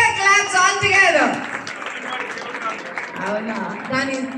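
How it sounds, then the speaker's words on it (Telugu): An audience claps at a Women's Day celebration dance, a burst of applause under a loud voice speaking over a microphone, fading as talk continues. "కొంచెం గట్టిగా క్లాప్స్ ఆల్ టుగెదర్"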